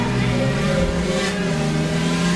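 A Hayabusa motorcycle engine revs in the video game GTA 5 on a night ride, with a loud, continuous droning note that rises and falls slightly, heard alone without talk.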